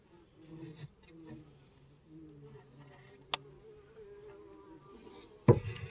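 Honey bees hum softly around an open Langstroth hive, with a faint, wavering buzz near the microphone and a few sharp knocks and taps as the hive is worked.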